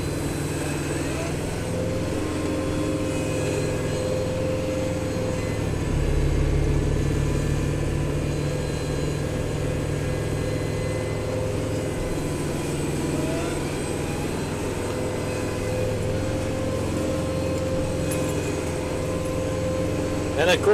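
A Kubota 5740 tractor runs a snowblower after a major snowstorm, a steady, close mid-pitched engine drone that holds throughout with little change.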